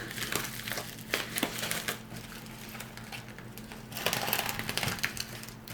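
Someone opens a plain bubble mailer envelope from an AliExpress order, with continuous close crinkling and rustling of the padded plastic, a few sharper crackles and tearing bursts rising toward the end.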